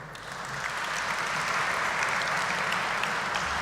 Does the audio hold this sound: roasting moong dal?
no